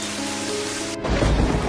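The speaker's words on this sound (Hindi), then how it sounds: "हे भगवान, इतनी तेज बारिश।" Heavy rain pours steadily, then a deep rumble of thunder rolls in, swelling the roar of the downpour.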